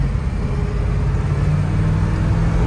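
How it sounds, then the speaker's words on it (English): A 1978 Chevrolet Suburban 4x4 with dual exhaust accelerates from inside the cab, giving a steady, deep engine rumble and roar that holds throughout with no talking. "Love that sound of that dual exhaust."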